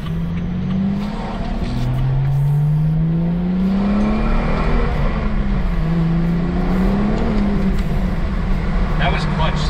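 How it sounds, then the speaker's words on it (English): A BMW E30 fitted with an N55 engine and six-speed gearbox, its engine droning loudly under full throttle, pitch rising and wavering unevenly as the clutch slips, with road and wind noise throughout. "That was clutch slipping."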